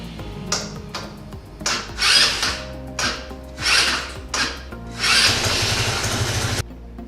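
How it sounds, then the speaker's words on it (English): A Kymco Like 200i scooter starter motor, with a faulty starter relay, cranks in repeated uneven bursts, whirring and grinding without the engine catching, ending in one longer, steadier crank. "it seems like it would like to start, but struggling to do so"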